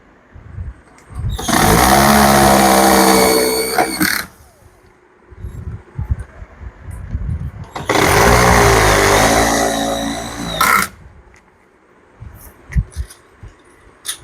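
A power screwdriver drives screws into a sound system speaker box, two loud whirring bursts of about three seconds each with quieter handling noise between them.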